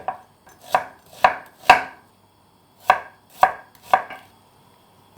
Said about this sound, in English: while that oil is heating, I'm going to slice my onion